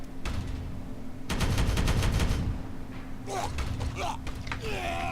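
Gunfire erupts in the Warhammer 40,000 strategy game Regicide as Blood Angels open fire, a dense burst of rapid shots over a steady hum, followed by mechanical clanks and creaks.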